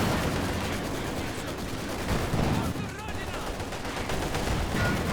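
Machine gun fire in a Company of Heroes 2 match rattles continuously beneath dense battle noise, with blended gunshots and a mid-distance roar that holds steady for the whole stretch.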